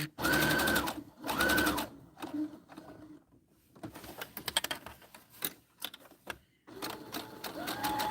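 Home sewing machine stitching and backstitching lined fabric pieces of a Christmas tree gift bag, with two loud bursts of rapid stitching near the start and another near the end, separated by quieter clicks and handling.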